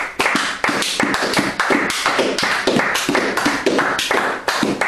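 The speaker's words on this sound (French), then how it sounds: "Est-ce que nous pouvons encore applaudir notre Seigneur?" A church congregation applauding, dense, steady clapping from many hands in pulsing waves, loud and close, with no voices over it.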